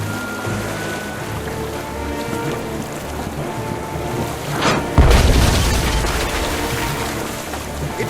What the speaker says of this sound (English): It is for me to shoot the cannon